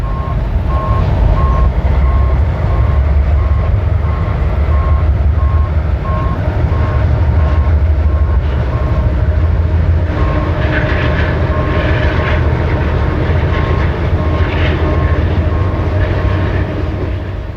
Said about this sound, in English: A speedier train rushes past on the main as it sprints toward Converse Junction and Logan Hill.